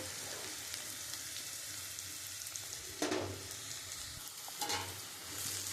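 Onion sautéing with salt, turmeric and cumin powder in oil for a Bengali lote fish bhorta, a steady soft sizzle with a couple of louder stirring scrapes partway through.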